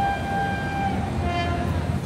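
A train leaving Azimganj Junction gives out a sustained tonal horn-like whine that holds, fades, then returns slightly lower, over a steady rumble of the moving carriages.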